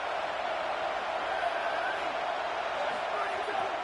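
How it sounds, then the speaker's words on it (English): Steady stadium crowd roar fills a college football video game broadcast early in the first drive. It is a loud, continuous wash of noise with no distinct cheers standing out, under a commentator's voice. "This crowd bringing the energy and noise early"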